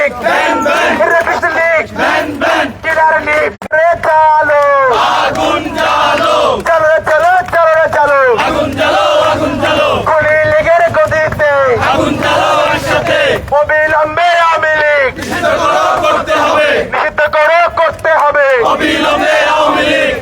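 Dhaka University students chant slogans on a midnight protest march demanding a ban on the Awami League. A loud, massed call-and-response of many voices rises and falls in rhythmic bursts for the whole stretch.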